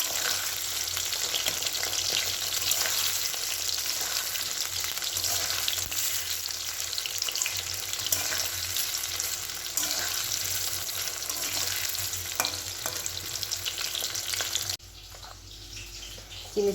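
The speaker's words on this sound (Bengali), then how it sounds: "চিলি চিকেনগুলো ভাজা হচ্ছে।" Chili chicken pieces sizzle in a pan over a lit gas flame in a home kitchen, a steady close hiss and crackle that runs unbroken and then drops away abruptly near the end.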